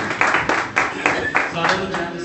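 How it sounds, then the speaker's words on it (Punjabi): Congregation at a church prayer meeting clapping in a steady rhythmic beat, about nine loud claps over a couple of seconds, close, with a voice speaking over it. "ਅਸੀਂ ਜ਼ੋਰਦਾਰ ਤਾੜੀਆਂ ਮਾਰ ਕੇ ਬਦਲ"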